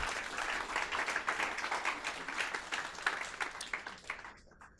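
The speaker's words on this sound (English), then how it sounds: "Give this man a round of applause." Applause from the audience at a mindset talk, a dense, moderately loud patter of many hands with pulsing swells, tapering off and ending abruptly.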